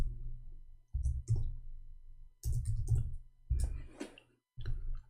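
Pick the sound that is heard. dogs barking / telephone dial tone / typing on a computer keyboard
typing on a computer keyboard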